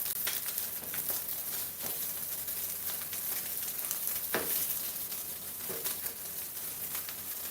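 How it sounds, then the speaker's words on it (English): Steady crackling sizzle of fairly dried-out rice frying in a hot pan, with occasional louder pops and crackles standing out from the continuous hiss. "That's the sound of fairly dried out rice sizzling."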